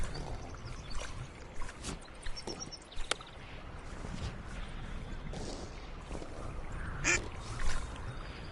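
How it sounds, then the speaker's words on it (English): Duck quacks in the video game Return to Monkey Island, several short nasal calls scattered over a soft outdoor pond ambience with light splashing, fairly quiet and without speech. "Don't feed the duck."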